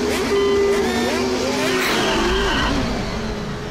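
Cartoon racing cars roar off together, loud engine notes rising and sliding in pitch with a screech of tires, then a deep rumble as they speed away, busy and close with no talk over it.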